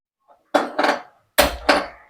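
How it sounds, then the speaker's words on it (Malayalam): A metal frying pan clanks down on a gas stove twice, two pairs of sharp, close knocks against a hard surface. "ഗ്യാസ് കത്തിക്കാം ചട്ടി വെച്ചിട്ടുണ്ട്"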